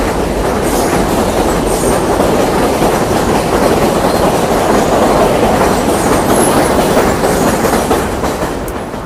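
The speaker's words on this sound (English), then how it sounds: "There's a train." A loud train rumbling past nearby, with constant roaring wheels and clattering rails throughout, and faint high squeals.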